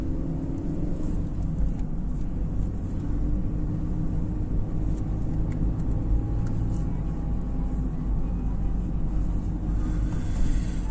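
A taxi car drives along a city road in Lviv, its steady engine and road rumble filling the cabin for the whole stretch, close and even with no talk.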